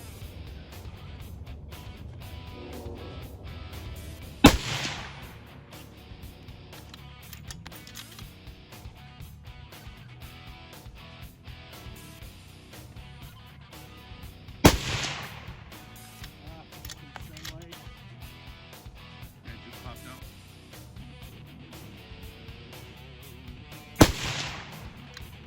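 Three sharp rifle shots at an outdoor range, spaced roughly ten seconds apart, each a loud isolated crack over a quiet background with faint murmuring between.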